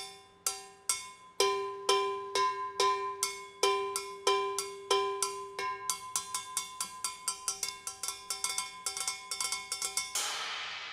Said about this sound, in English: What's that cool sound, you might ask? It's a cowbell.